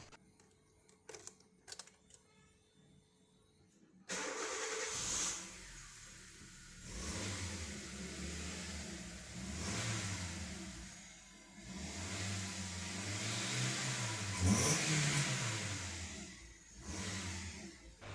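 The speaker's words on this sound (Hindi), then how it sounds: "अभी फिर से गाड़ी स्टार्ट करके देखते हैं, वो DTC फिर से चला आता है क्या।" A Hyundai i20 with an active engine fault code starts after some clicks, then idles and revs in repeated rising and falling swells, heard close and moderately loud.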